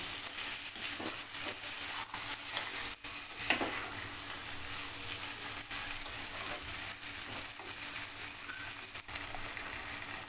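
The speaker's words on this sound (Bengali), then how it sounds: "এবার মশলার সঙ্গে মটরশুঁটিটাও আমি এক থেকে দুই মিনিটের মতো কষিয়ে নিব" Green peas are sautéed with spice masala in a pan, producing a soft, steady sizzle broken by intermittent utensil taps and scrapes from stirring. No voices.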